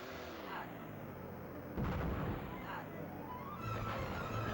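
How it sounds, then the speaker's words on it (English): Grenade blasts in a 3DO video game, heard as muffled booms over a steady rumbling game backdrop, with one sharper blast partway through and a softer one near the end, while someone talks. "Those are just grenades I'm lobbing."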